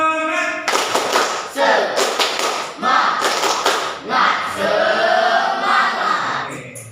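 Classroom spirit clapping led by a teacher, a group of pupils striking out rhythmic bursts of claps in unison with short pauses between phrases, close and loud, with some voices mixed in.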